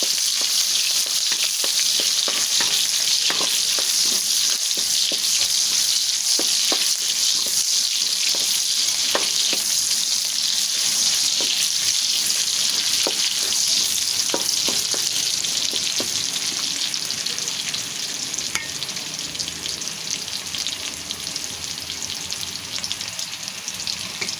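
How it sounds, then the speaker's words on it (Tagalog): Vegetables fry in a pan of splattering oil, a constant loud sizzle peppered with sharp crackles and pops that run on without pause, easing slightly near the end, with no voices. "Parang tumatalsik ang mantika."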